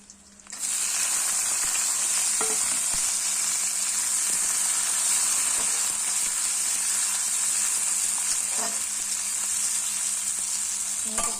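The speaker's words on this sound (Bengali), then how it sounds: "এখন আমি এক এক এগুলো ফোড়ন দিয়ে নেব রসুন কাঁচা লঙ্কাটা আগে দিলাম" Garlic, green chili and onion fry in hot oil for a quick chowmein, making a loud, continuous sizzle that begins sharply and holds at an even intensity throughout.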